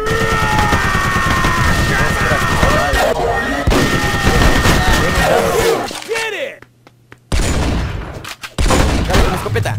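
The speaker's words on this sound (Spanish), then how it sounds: "¡Dale con la escopeta! ¡Ah! ¡Escopetazo!" A rapid barrage of shotgun blasts and other gunfire from the video game MicroVolts, loud and dense, with a short lull near the end before the shots resume, while a player shouts excitedly over them.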